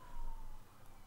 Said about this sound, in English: Sorry for all the sirens outside.